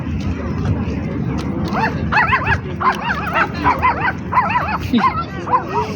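Several dogs bark and yip aggressively in repeated bursts along a riverside in Warsaw, fairly close and loud over a constant low background rumble and murmur.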